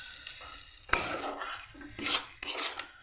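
A pea filling for motorshutir puri, sweetened with a little sugar, gets stirred in a frying pan until its water cooks off: a spoon scrapes and rasps in several bursts over a soft sizzle, with no talking.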